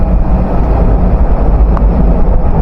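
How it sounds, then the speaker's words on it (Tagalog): Strong wind buffets a phone microphone outdoors in the Czech Republic continuously, a loud, steady roaring rumble with no pauses. "Pag naririnig niyo yung lakas ng hangin, napakalakas."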